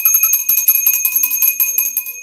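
A bell is struck once at a tarot reading, its bright, clear ding ringing on and slowly fading, loud and close with no talking.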